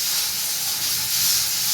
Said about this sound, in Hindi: लहसुन का तड़का लगाते हैं